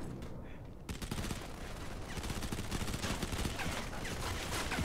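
Rapid gunfire in the video game Modern Combat 5, a dense stream of automatic shots starting abruptly about a second in and rattling on without pause, loud and close.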